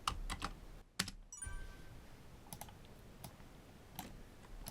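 Keys clatter on a computer keyboard while a range is locked in a spreadsheet: several crisp, close clicks come early, then sparser taps follow over a quiet background hiss.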